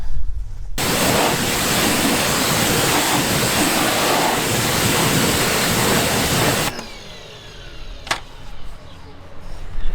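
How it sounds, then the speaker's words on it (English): Water spraying onto a car wheel and rinsing off cleaning product, heard as a loud, steady hiss of spray that starts abruptly and runs for several seconds before cutting off, leaving a quieter background with dripping. "we'll rinse that off real quick"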